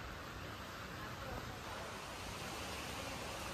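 Rain falling outdoors under a dark, clouded sky makes a dense, steady wash of hiss that stays even and close throughout.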